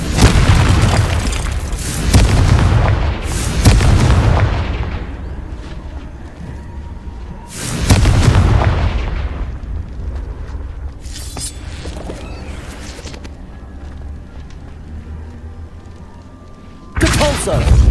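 Confringo fire spells in the Hogwarts Legacy video game go off as loud, deep booming explosions, several blasts spaced a few seconds apart with rumbling tails between them.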